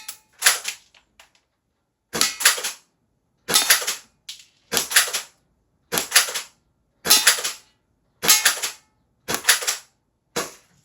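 Academy M416 air-cocking airsoft rifle firing shot after shot, each a sharp snappy pop with cocking clatter between, about ten shots spaced roughly a second apart, close and fairly loud with no talk.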